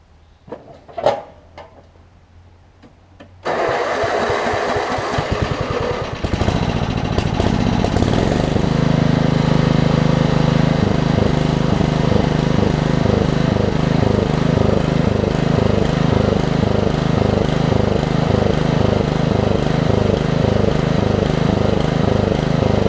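A Craftsman (Murray) rear-engine riding mower turns over with a few cranks, catches, and settles into a loud, steady running drone close by with slight surging.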